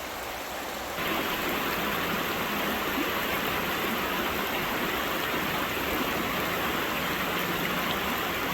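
River water flows steadily at a campsite, a continuous broadband rush that swells louder after the first second and holds even and close, with no talking.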